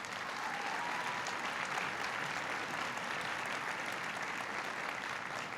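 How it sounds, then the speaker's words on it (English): Steady, even applause from an audience at a Milwaukee event honouring the Healthy Communities Challenge, a continuous wash of clapping heard from some distance for the whole stretch. "Please give him a big round of applause."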